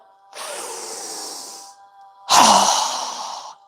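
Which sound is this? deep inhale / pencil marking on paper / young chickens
deep inhale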